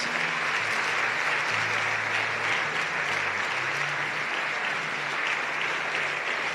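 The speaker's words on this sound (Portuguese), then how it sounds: "Vamos aplaudir o nosso Deus." Congregation applauding during a church worship service, sustained dense clapping from many hands at a steady level from start to finish, with faint voices mixed in.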